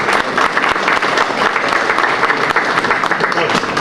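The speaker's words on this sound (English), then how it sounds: "let us give some applause for this support" Audience applause at the KazanSummit 2014 business breakfast, dense continuous clapping from a large hall crowd, loud and sustained throughout.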